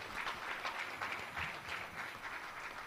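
An audience applauds at a World Press Freedom Day event attended by the President, a steady, dense round of clapping from many hands at a moderate distance, with no break.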